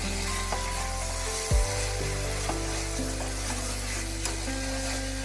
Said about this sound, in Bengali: এবার মশলাগুলোকে ভালোভাবে একটু নাড়িয়ে চাড়িয়ে নিতে হবে অবশ্যই।